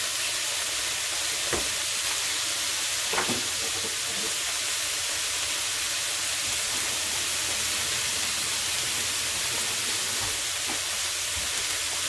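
Mexican-style BLT toasting in a pan over medium to high heat, giving a steady, even sizzle with a couple of brief clicks near the start, no voices.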